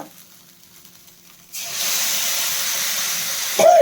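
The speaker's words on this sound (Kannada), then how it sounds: "ಈಗ ಇದೇ ಕಡಾಯಿಗೆ ನಾವು ಹುಣಸೆ ಚಿಗುರನ್ನ ಹಾಕ್ಕೊಂಡು ಫ್ರೈ ಮಾಡ್ಕೊಳ್ಳೋಣ" Tamarind shoots hit the hot oil left in a kadai and set off a sudden loud, steady hiss of frying after a quiet start. The hiss holds at an even level and swells slightly near the end.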